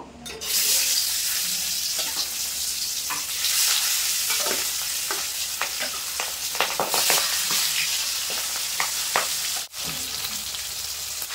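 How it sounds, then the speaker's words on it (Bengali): Boal fish pieces for a Bengali mustard curry fry in hot mustard oil, a loud, steady sizzle that fills the whole stretch, with occasional stirring clinks and scrapes and no voices. "এখন আমি মাছের পিসগুলো ভেজে নেব"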